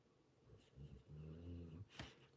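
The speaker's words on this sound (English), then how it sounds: "Sorry for my dog snoring," A sleeping dog snores softly, with a low drawn-out rumbling breath and a brief snort near the end, faint and close in a quiet room.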